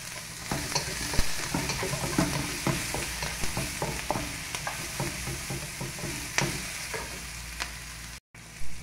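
Onions frying in a pan for pancit canton, stirred steadily with a utensil: a continuous sizzle broken by frequent scraping strokes, close and fairly loud, with no voices.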